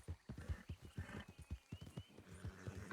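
A saddled horse in the video game RedM whinnies while its hooves clip-clop in a steady, rhythmic beat, fairly faint and close, with no talking over it.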